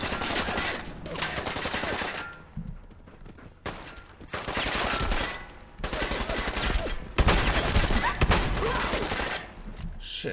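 An automatic turret rattles out rapid bursts of machine-gun fire inside the Corvega factory in Fallout 4, several loud, close volleys broken by short pauses, with a voice faintly underneath.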